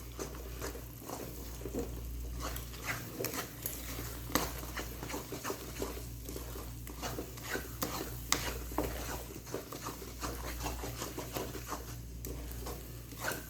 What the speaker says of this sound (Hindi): मुसलसल चमचा हिलाते रहना है हमने।